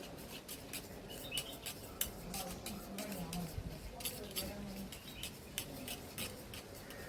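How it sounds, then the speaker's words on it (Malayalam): Cream for a chocolate cake being mixed in a bowl, with a utensil scraping and clinking against the sides in a quick, continuous rhythm at close range. "മിക്സ് ചെയ്ത് നല്ല ക്രീം ആക്കിയിരിക്കാം."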